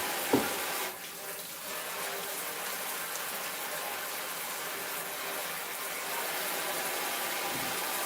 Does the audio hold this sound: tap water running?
yes